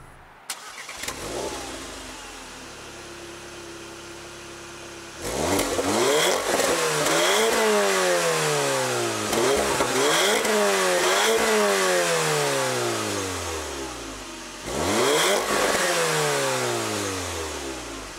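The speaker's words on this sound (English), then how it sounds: "I'll let you guys hear what this engine sounds like real quick." A 2018 Porsche Macan Sport Edition with a 2-liter turbocharged four-cylinder engine and sport exhaust starts up, settles into a steady idle, then revs hard several times. Each rev climbs and falls back, loud and close.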